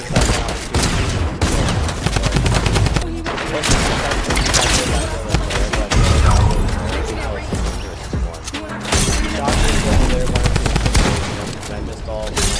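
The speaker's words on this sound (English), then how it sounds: "He's shooting at another player." Rapid bursts of gunfire from a Fortnite match fill the span, loud and continuous, with dense volleys and booming hits and only a brief lull near three seconds.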